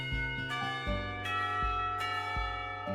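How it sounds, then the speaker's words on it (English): Bells in a school setting in the visual novel Katawa Shoujo chime in a soft, resonant sequence of several overlapping struck tones, evenly spaced and ringing on without any voices. "everyone seems surprised when the bells signal the end of the lessons"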